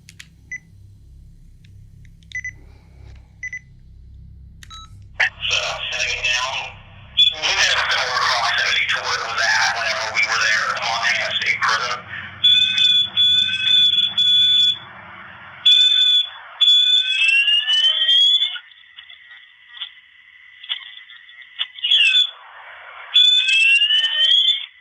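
REM pod paranormal detector alarm played back on an audio recorder: repeated electronic beeping tones with rising warbles, loud and close, after a stretch of voices talking over a low hum.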